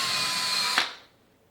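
A power drill with a 1/16 inch bit bores a shallow pilot hole for tiny hinge screws in a wooden soap mold, a close high whine for under a second that stops abruptly.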